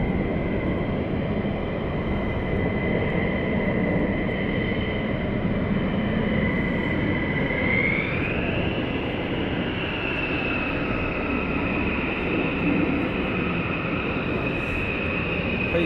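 Jet aircraft taxiing at RAF Lakenheath during surge operations: a steady, loud broadband engine roar with a sustained high whine that rises slightly in pitch partway through, continuous throughout with no talk.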